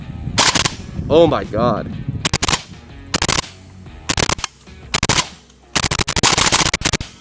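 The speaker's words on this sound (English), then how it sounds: "first shots with the Zvuk on the Zastava M90" Zastava M90 5.56 AK-pattern rifle firing with a Zvuk suppressor at a range: loud, sharp suppressed shots in single reports and quick bursts, spaced across the clip, with a brief spoken exclamation early on.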